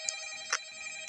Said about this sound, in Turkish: Ya yine şu telefon açtı.